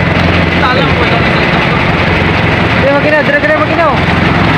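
A boat's engine runs loudly and continuously at sea during a rescue in the Sulu Sea, a low chugging drone under excited voices talking and calling out.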